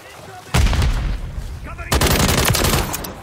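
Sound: sniper gunfire in the video game Call of Duty Modern Warfare 3

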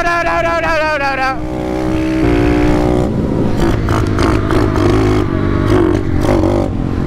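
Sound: pit bike engine bogging during a chase

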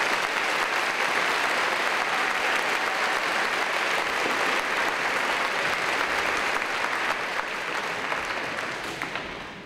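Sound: audience applause at graduation ceremony

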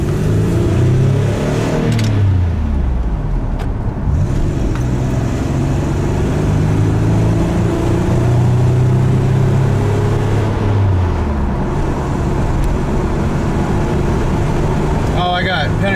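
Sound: 1994 Toyota 4Runner driving on the highway

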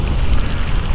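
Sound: rain while riding an electric motorcycle

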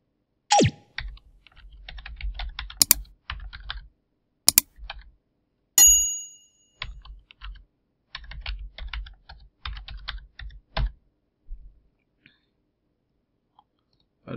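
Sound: typing an email address and password on a keyboard

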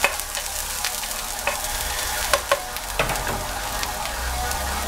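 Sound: garlic and onion sautéing in a pan

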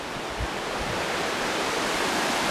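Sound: river water flowing

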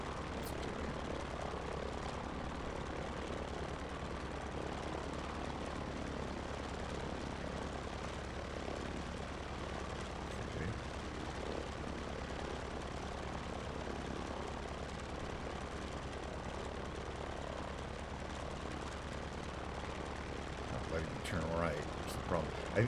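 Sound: airplane engine in Microsoft Flight Simulator video game

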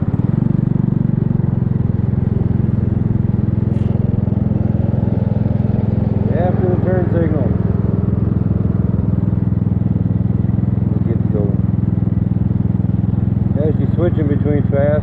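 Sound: 250cc scooter engine idling

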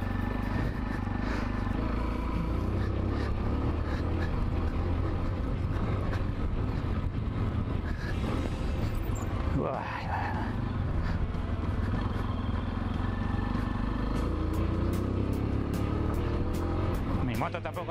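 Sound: trail motorcycle engine riding

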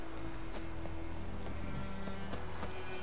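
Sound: horse hooves approaching in The Witcher 3 video game

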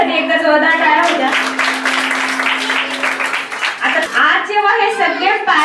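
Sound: audience applause for Mrs. More

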